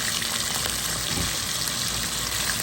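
Shrimp dropped into a pan of oil with browned fried garlic, a steady hissing sizzle that stays fairly even and moderately loud throughout, close up, with no voices.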